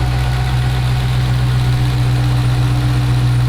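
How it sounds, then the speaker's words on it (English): A Dodge Charger Hellcat Redeye engine, built up from a V6 rental car, idles steadily with a deep, even rumble and constant low vibration, close and loud with no talk. "Seems like it's idling okay."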